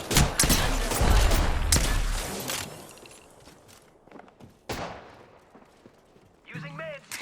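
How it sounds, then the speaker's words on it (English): Bursts of rapid gunfire in Apex Legends, loud and close, rattling for about two seconds, then scattered single shots and a later burst, with a short voice line near the end. "Grenade incoming. I'm under fire."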